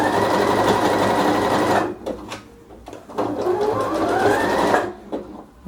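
Sewing machine stitching fabric for a giraffe-themed nursing pillow, a steady fast whirring run, a brief stop, then another run and short bursts, close and loud without speech.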